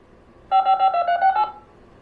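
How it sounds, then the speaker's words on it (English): Touch-tone dialing on a 1980s touchscreen telephone: a quick run of about eight clean DTMF beeps packed into one second, clear and close, with no talking. "let's try to call a number."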